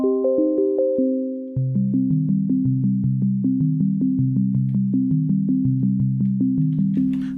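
An Elektron Digitone synth plays a clean, bright plucked melody through a Demedash T-120 pedal, a held chord giving way to a repeating arpeggiated line of evenly spaced notes, loud and up close with no talking.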